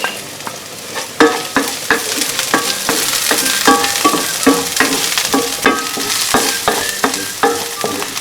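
Minced garlic frying in a pan while being stirred: a loud, close, continuous sizzle broken by frequent quick clinks and scrapes of the utensil against the pan.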